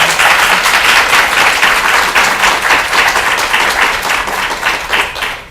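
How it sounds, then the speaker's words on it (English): An audience claps enthusiastically for panelists after a discussion on multicultural issues and autism, a loud, dense burst of applause lasting several seconds before it begins to taper. "I think we can give them a big round of applause."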